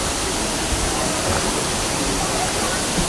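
A waterfall at a campground at the foot of Mount Slamet roars in a steady, dense, full-band rush, loud and close, with no breaks for the whole stretch.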